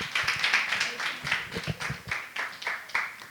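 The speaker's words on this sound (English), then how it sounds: "let's all welcome her with a huge round of applause" Audience applause and clapping at a women makers celebration workshop event, a steady patter of hand claps from a crowd, moderately loud and continuous, with some voices mixed in.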